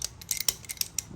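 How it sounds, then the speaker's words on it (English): An adjustable wrench clicks and creaks against a fitting on a fabricated rear crossmember, a quick run of sharp metallic ticks spaced about a tenth of a second apart, close and fairly quiet, with no speech. "what I'll use is a adjustable wrench, and I'll just get kind of tight on it right here"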